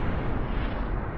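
Cannon fire and explosions from a space-ship battle in the game Cosmoteer, a dense burst of heavy booming blasts crowding together at close, loud level with no pauses.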